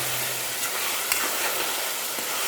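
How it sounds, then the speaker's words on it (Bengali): Steady, soft sizzle of masala spices and chili powder frying in a pan for a Bengali mutton and potato curry, a constant hiss with faint clinks and no talking. "ধিমা আছে একটু মশলাটা কষবো।"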